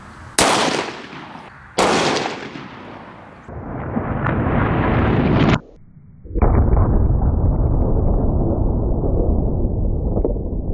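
Two sharp, loud 10mm 200 grain hollow point shots fired into ballistic gel, each a sudden crack with a short decay, followed by a sustained broad roar that holds to the end.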